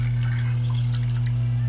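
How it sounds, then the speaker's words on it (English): Water runs and trickles steadily on an aluminum oxide wheel while a Zwilling X50 CrMoV15 steel knife is sharpened, a continuous wet flow over a loud, constant motor hum. "Focus on the sound of the water."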